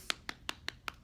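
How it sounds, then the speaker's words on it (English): A few people clapping in a sparse, steady rhythm of six evenly spaced claps, fairly faint and close, with no talking. "give yourself a round of applause"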